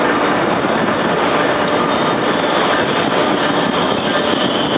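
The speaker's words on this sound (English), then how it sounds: "Here we got the Amtrak train number 91, the Silver Star to Miami coming in" Amtrak train number 91, the Silver Star to Miami, pulls into 30th Street Station behind engine 904 with a baggage car, sleepers and coaches. A loud, steady rumble of rolling cars fills the whole stretch without voices.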